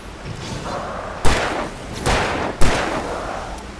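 Gunfire in the video game Alan Wake Remastered: three heavy, booming shots spaced about a second apart over a steady background rumble, each with a trailing reverberant tail.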